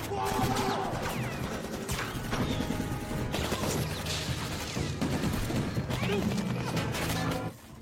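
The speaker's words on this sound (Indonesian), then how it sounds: "yang membuat terjadi baku tembak antara keduanya" Film shootout between robbers and fascists over a deal, dense loud bursts of gunfire with crashing impacts and clatter, mixed with shouting voices and dramatic score.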